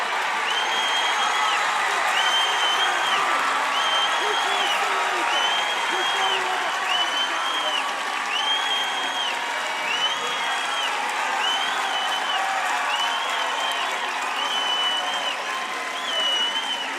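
A stadium crowd at a Texas A&M versus Texas college softball game cheers and applauds steadily and loudly throughout, with shouts and whistles rising from the stands and a commentator's voice running underneath.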